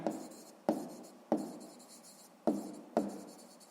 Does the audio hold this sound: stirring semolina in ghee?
no